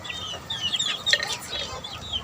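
A fighting gamecock clucking close by, a run of soft, repeated clucks and throaty chirps over faint background noise.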